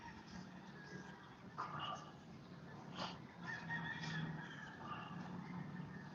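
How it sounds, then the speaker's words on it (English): Distant chickens, including cockfighting roosters, cluck and call faintly from a farm setting, a few soft bursts rising over a low, hissy outdoor background. "I hear many chickens."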